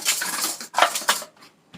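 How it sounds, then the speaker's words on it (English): Metal kitchen utensils clatter and clink as a strainer is pulled out from among them, two quick jangling bursts close by followed by a fainter rattle. "Let me just get my strainer out."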